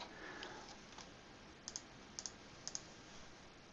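Keys clicking softly on a computer keyboard while a search term is typed, heard as three quick pairs of light taps spaced evenly over a steady background hiss.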